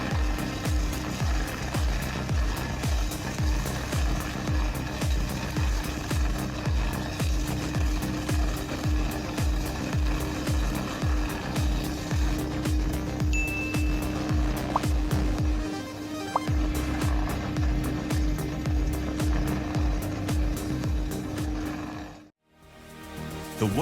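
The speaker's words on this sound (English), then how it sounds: "The Dipper Fox 850 Pro is a specialized stump grinder, specifically designed to attach to skid steers and multi-purpose excavators" A Dipper Fox 850 Pro stump grinder mounted on a skid steer or excavator digs out a tree stump with a steady, rhythmic mechanical pounding and grinding that runs for over twenty seconds before briefly dropping out.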